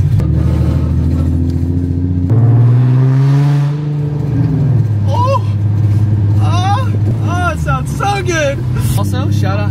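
Infiniti G37 fitted with a Tomei exhaust and longtube headers, revving loudly with rising and falling engine drone through the whole stretch, while people talk over it.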